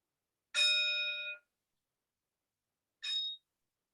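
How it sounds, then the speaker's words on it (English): A meditation bell rings at a Buddhist service, one long bright tone that fades after about a second, then a shorter second strike, each standing alone in silence. "And the sound of the bell takes us out"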